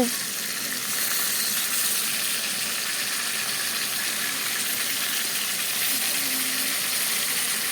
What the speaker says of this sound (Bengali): মাছগুলো ভাজা